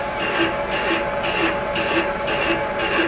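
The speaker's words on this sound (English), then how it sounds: "All right, so we're milling the top portion there." A milling machine cuts the top of a Triumph Thruxton motorcycle tappet block, a loud, steady metallic grinding with a pulsing rhythm roughly twice per second, close by and continuous.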